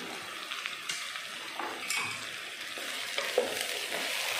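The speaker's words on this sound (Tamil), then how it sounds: "உப்பு சேர்த்துட்டு நல்லா ரெண்டு நிமிஷத்துக்கு காயை வதக்கிடலாம்." Salted vegetables sautéing in a pan for sambar make a soft, continuous sizzle broken by repeated stirring scrapes and light clinks of a utensil against the pan.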